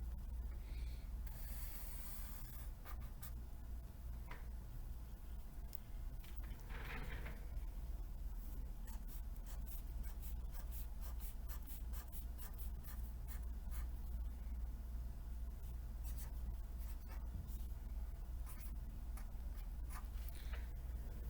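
A pen scratches steadily across paper while drawing a number line for a decimals lesson, with soft repeated strokes and taps, faint and close, with no talking.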